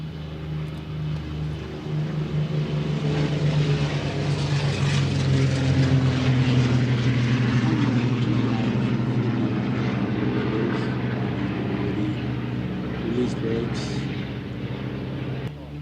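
Yak propeller aircraft run their engines on a hard runway at an airshow, a steady droning rumble that swells and holds for a long stretch.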